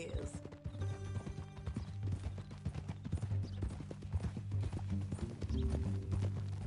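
Hooves of a horse in a video game clip-clop at a steady walking pace, close and moderately loud, with characters talking over the rhythmic steps.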